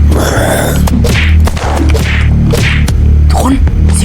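Loud sharp gunshot cracks from the video game Unturned fire repeatedly at irregular intervals over a constant droning background.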